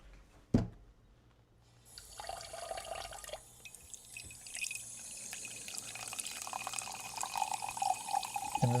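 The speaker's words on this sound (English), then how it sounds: "I'm gonna get some water." Water from a kitchen tap starts after a sharp knock, then runs in a steady rushing stream that grows fuller as a vessel fills, close and alone.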